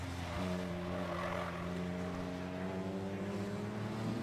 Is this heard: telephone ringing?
no